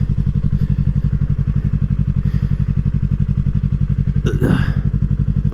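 A 2020 Yamaha R3 motorcycle rumbles close and loud as it pulls in to park. Its engine gives a steady, rapid, low pulsing throb, and one brief clattering thud comes near the end.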